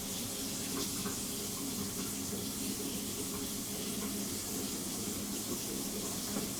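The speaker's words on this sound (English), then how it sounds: "Toilet's filling on the other side" A toilet tank refilling with water after a flush, heard as a steady, continuous hiss and rush of running water that holds level from start to finish with no talking.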